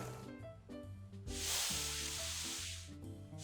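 A spray can hisses in a long, steady burst while painting a vintage item being restored, the broad airy spray rising over music and lasting a couple of seconds.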